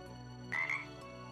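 A single short frog croak, faint and brief, rising once over a low steady hum, with no voices.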